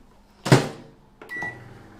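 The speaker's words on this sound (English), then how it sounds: "So I'm going to put this back in the microwave again." A microwave oven is opened and started, with a sharp door clunk, then a click followed by a steady hum with a faint whine carrying on without any voices, in a cake-decorating room during ganache preparation.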